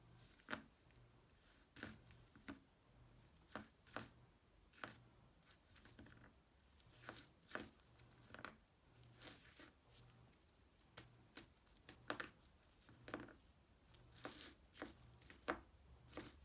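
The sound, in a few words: nickel coins dropping during coin roll hunt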